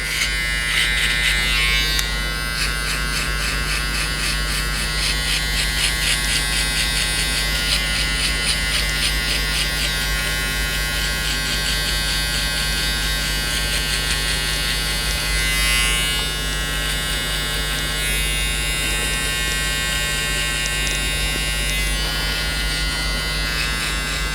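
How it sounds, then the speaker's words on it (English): An Andis electric shaver buzzes steadily and close up during a skin fade haircut, its whine rising into rapid rasping bursts as it passes over hair. "using a shaver to board out"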